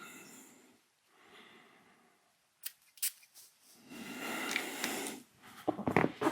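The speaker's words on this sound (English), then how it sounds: "Let's spray that one on this hand." A few quick hissing spray bursts from a small perfume atomizer spraying Amouage fragrance onto a hand, close by, separated by brief pauses with soft breathy noise between them.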